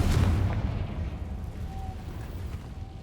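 A Confringo spell explosion in the video game Hogwarts Legacy: a loud, deep burst at the start that rumbles and slowly fades, with no talking.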